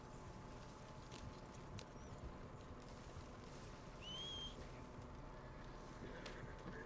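Horse hooves clip-clop in the Red Dead Redemption 2 video game, faint and steady under game ambience with occasional bird calls.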